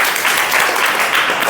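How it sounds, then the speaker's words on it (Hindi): Classroom applause from students in a lesson on comparing rational numbers, a steady dense patter of clapping that fills the whole moment without pause, fairly loud and close. "जोरदार ताली।"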